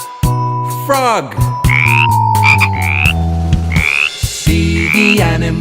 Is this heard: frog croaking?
yes